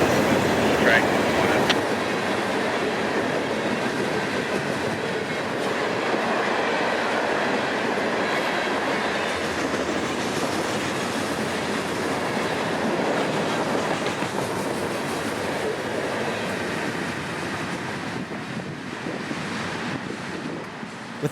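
CSX coal and autorack freight trains pass on the S Line in central Florida on a foggy morning, a loud continuous rumble and rushing roar of rolling cars, steady and close throughout.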